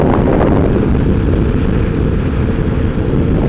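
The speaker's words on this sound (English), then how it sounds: "I don't know if you can hear that wind. It is a little windy." Loud, steady crosswind buffets the microphone on a moving Royal Alloy GT125 scooter with a constant heavy roar, no letup, as if rushing past at speed.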